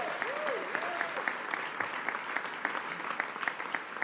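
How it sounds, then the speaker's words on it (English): An audience applauds Governor Kathy Hochul at a healthcare announcement in Fredonia, a dense, continuous wash of clapping with a few brief whistle-like tones over it. "Give her a round of applause,"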